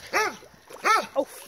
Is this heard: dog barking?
yes